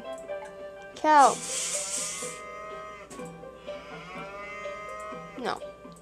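A cow moos in the Harvest Moon farming video game, a short bellowing call near the start, followed by a second brief low moo later, set against a steady soft game soundtrack with sustained tones.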